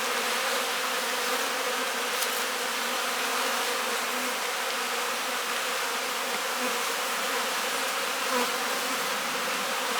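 A honey bee colony buzzes steadily and densely throughout during a hive inspection, a close continuous drone with no talk over it.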